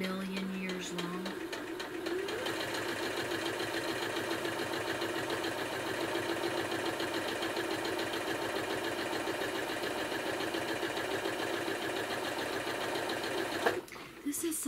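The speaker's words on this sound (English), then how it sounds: "I'll do the sewing on this first block more slowly" A sewing machine stitches a quilt block at a steady, continuous mechanical whir, running close and fairly loud for nearly the whole stretch before stopping briefly near the end.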